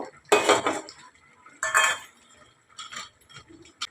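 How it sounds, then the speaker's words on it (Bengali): A metal lid comes off a cooking pot with a few separate clanks and rattles, two loud ones followed by softer clinks, close and without talk. "আমি এবার ঢাকাটা খুলে দিচ্ছি।"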